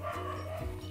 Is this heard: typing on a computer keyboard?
no